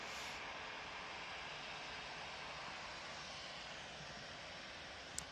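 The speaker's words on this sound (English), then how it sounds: "KLM has just arrived" A KLM airliner arriving at Manchester Airport gives a steady, loud, broadband engine roar that holds level throughout, with a brief sharp tick near the end.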